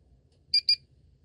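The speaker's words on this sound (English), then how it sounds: "The detector will reset itself after 20 hours or can be manually reset by turning the device upside down until 2 beeps are heard." A UAP detector gives two short, high electronic beeps on reset, evenly spaced and fairly close, alone over a faint low background hum.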